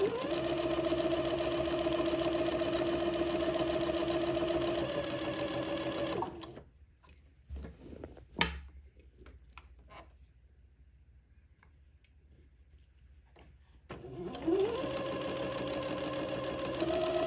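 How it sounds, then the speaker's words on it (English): A sewing machine runs a steady straight seam, stitching entredeaux onto a funeral pall, its motor whirring continuously for several seconds, then stopping for a quiet pause with a few small clicks before starting up and running again. "with a straight seam, I'll sew this entredeaux to the top"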